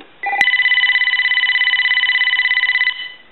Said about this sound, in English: We're going to ring the phone.